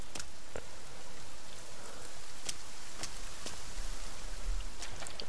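Video game rain falls as a constant, dense hiss with scattered sharp droplet ticks throughout. The level stays even from start to finish, and no voices are heard.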